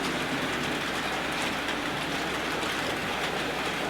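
An analogue model railway locomotive runs steadily on the layout, giving a continuous, even rolling rumble and rail hiss throughout with no talk over it.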